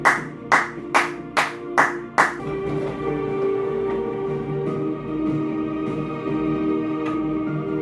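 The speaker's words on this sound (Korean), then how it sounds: "이건 박수 쳐야 된다." Six sharp hand claps in a quick, even rhythm, close by, followed by a faint humming background.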